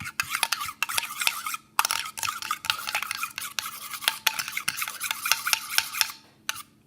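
A slime mixture with added dish soap being stirred in a bowl, a steady run of sticky scraping and clicking strokes, close and fairly loud, with no talking.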